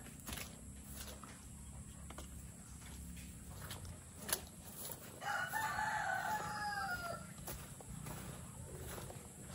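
Chickens cluck faintly in a farmyard while a rooster lets out one loud, drawn-out crow midway, with steady outdoor background noise throughout.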